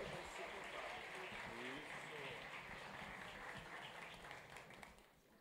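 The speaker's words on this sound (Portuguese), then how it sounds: "uma salva de palmas para os nossos astros" Audience at a hypnosis stage show giving a round of applause, a faint, distant wash of clapping that tapers off near the end, with voices mixed in.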